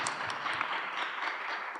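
A short, steady round of audience applause, dense clapping filling the space evenly from start to finish with no voices on top.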